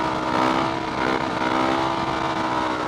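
A motorcycle pulls hard in fourth gear, its engine a loud, steady, close drone with a dense roar and no talk over it.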